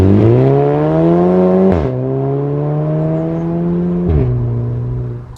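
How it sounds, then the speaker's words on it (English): A Volkswagen Scirocco with a DSG gearbox revs and drops through a few sharp gear shifts, each marked by a brief blip and exhaust crackles, with a deep, throaty exhaust tone close by. "I do like the DSG noise from this exhaust"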